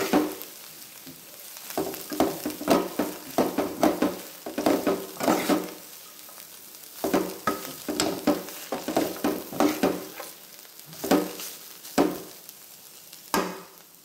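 Food being stirred in a frying pan, with a low steady sizzle under bursts of scraping and tapping utensil strokes coming in irregular clusters, close and moderately loud, no talking.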